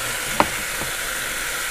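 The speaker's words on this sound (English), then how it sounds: "Nice sizzle going on in there." Steady, dense sizzling of meat frying in a hot 2-quart Cosori pressure cooker, a continuous crackling hiss with one brief sharper pop near the start.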